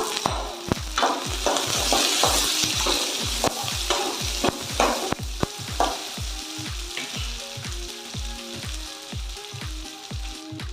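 Onion, garlic and ginger sautéing in a pan for Kerala-style tomato fish curry, a steady close sizzle broken by regular spoon strokes scraping and knocking against the pan throughout.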